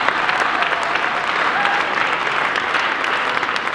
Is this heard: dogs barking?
no